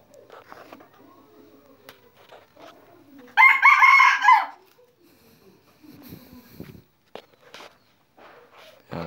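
A rooster crows once, loud and close, in a single harmonic call lasting about a second, with faint clucks and rustling footsteps around it and no talk.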